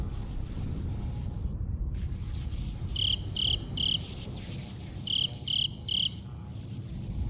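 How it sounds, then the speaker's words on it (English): Crickets chirp outdoors in a desert at night, two bursts of three rapid pulsing trills standing out over a steady low rumble, fairly faint and distant. "it was crickets in the background"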